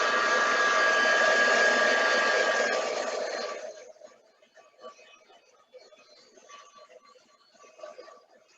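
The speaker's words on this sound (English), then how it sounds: "So I'll just pop that under the heat gun and draw it off" A heat gun dries watercolor ink on a card with a loud, steady blowing roar for about four seconds, then shuts off, leaving faint room noise and small clicks.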